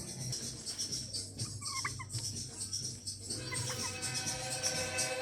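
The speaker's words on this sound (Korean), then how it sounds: "와 얘는 뭐야 칠면조야?" A turkey gobbles at a cable car stop near Darjeeling, with a few warbling calls set against steady outdoor background noise and faint bird chirps.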